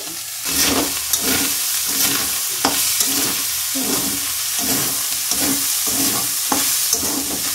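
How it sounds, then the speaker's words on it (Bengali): Loud, close sizzling in a pan with rhythmic scraping strokes of a spatula stirring fish and tomatoes, repeating about every half second. "এবার টমেটোর সাথে একটু ফ্রাই করে নিতে হবে।"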